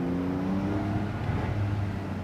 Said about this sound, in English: that extra audible flavour in the exhaust note